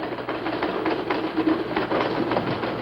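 In a 1954 sitcom classroom scene, a room full of manual typewriters clatters at once, a dense, rapid patter of keystrokes and clicks running steadily at moderate loudness with no voices over it.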